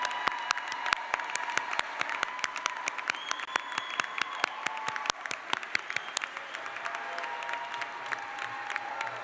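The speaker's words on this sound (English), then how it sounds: "Please join me in applauding them." Audience applause at a community college commencement in Maine, a steady patter of many hands clapping at moderate distance, with a few sharp individual claps standing out and the clapping softening in the second half.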